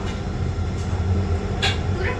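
A Mumbai local train runs between Bandra and Borivali, its steady low rumble and rattling carriage noise filling the space, with a couple of brief sharper clatters near the end.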